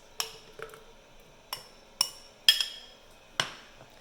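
A spoon scoops pineapple pieces into a glass for a mango pineapple smoothie, giving about six sharp, ringing clinks at uneven intervals, close and clear with no voices.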